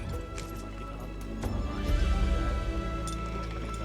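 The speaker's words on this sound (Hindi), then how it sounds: "ठाकुर को एक घोड़ी की दर्द भरी आवाज सुनाई गई" A mare whinnies in pain amid heavy low rumbling and background noise, the neigh rising briefly out of a thick, busy film soundtrack.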